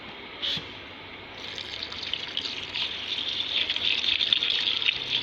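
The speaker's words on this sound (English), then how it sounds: "So I'm going to add my alcohol again." Alcohol pouring from a container into a mixing vessel for homemade hand sanitizer, a close, steady gushing stream that builds in strength over several seconds after a brief splash at the start, no talk.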